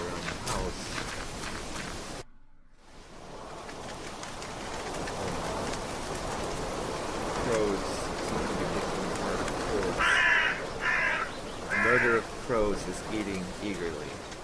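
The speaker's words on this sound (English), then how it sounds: "There are so many birds that I cannot see their prey from here." Crows caw in a video game, a cluster of harsh calls near the end layered over steady rain-like ambience, with a brief dropout early on and quiet narration-like voice elsewhere.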